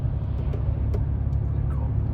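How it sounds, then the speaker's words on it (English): A car rumbles along steadily on a night road trip, a low, loud, continuous engine and road drone filling the cabin as it passes through a tunnel, with faint brief ticks above it. "So we're just about to pass through another tunnel right now"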